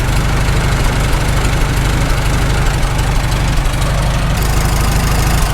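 A rebuilt Farmall H tractor engine runs steadily and loudly up close, a dense low rumble with a rapid rhythmic knock, and a whirring gear noise from the constant-mesh gears at the front of the transmission, no talking.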